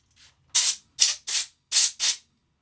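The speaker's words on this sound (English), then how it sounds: "Let me get a little compressed air here." Five short, sharp hissing bursts of compressed air blow across a 3D-printed RC trophy truck part, close and fairly loud, with brief silences in between.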